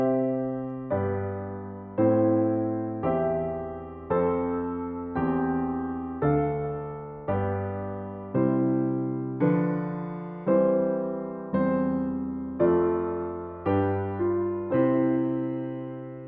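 Slow chord progression on a keyboard instrument, about fifteen sustained block chords struck one after another at a steady pace, each ringing and decaying before the next, played alone without talk.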